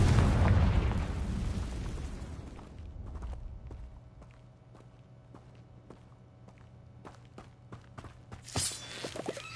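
A Confringo fire spell explodes in Hogwarts Legacy with a loud, broad rumbling blast that fades over a few seconds. Light footsteps and small pops follow at a low level.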